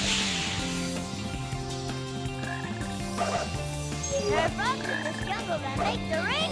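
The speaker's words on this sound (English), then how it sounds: "So there's these big frogs" Big frogs croak in a level of the Sonic Heroes video game, with rising warbling calls repeating over steady in-game music and effects at moderate volume.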